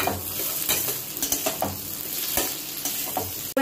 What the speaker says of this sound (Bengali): তারপরে যে চিকেন বলগুলো আছে ওগুলোকে দিয়ে নেবো যাতে একটু ফ্রাই হয়ে যায়।